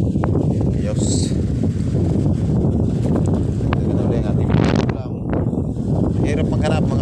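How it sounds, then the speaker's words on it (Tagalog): A very strong wind buffets the microphone with a constant loud roar on a fishing outing, with sudden gust thumps and some faint voices mixed in. "Sobrang lakas ng hangin"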